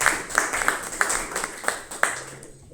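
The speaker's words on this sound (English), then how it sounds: "let's give a big round of applause to all the evaluators" A small Toastmasters club audience claps for the speech evaluators, a modest scatter of distinct hand claps at a loose, uneven rhythm, fairly close and thinning out after about two seconds.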